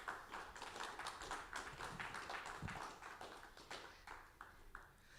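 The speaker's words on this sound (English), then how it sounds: "let's give him one more round of applause" Crowd at an Aboriginal Awareness Week family day event clapping for a musician after his set, a faint, distant patter of many hands with scattered individual claps standing out, fairly even throughout.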